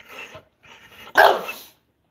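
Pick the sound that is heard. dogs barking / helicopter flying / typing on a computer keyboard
dogs barking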